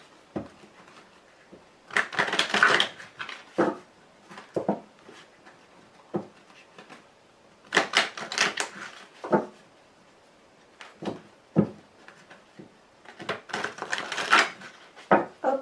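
A deck of playing cards is shuffled and cut by hand, giving bursts of crisp riffling and slapping in separate clusters, close and fairly loud, with quiet gaps between them.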